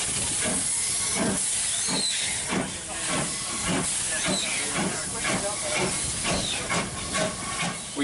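A model Lusworth Terrier steam locomotive pulls away on a model railway, with steady hissing steam and a regular, soft chuffing rhythm throughout.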